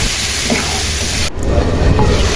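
Water poured into red chili masala frying in a pan, giving a loud continuous hissing sizzle that briefly dips at one point and then returns, with no one talking.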